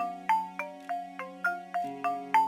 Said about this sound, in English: Hold on, my phone.